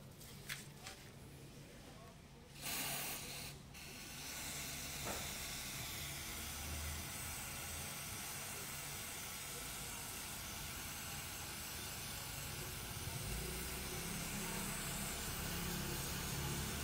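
Cleaner sprays in a steady, loud hiss into the throttle body of a Toyota Rush, running almost continuously after a few short bursts at the start.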